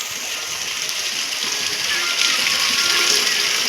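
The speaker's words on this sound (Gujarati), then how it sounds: "જો ફૂલ વરસાદમાં પાણી ફૂલ આવી ગયું છે." Floodwater rushes and splashes in heavy rain at Matiyana, a loud, continuous wash of water that swells slightly toward the end.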